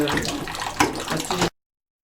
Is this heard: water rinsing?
yes